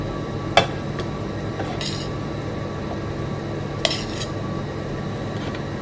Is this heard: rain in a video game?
no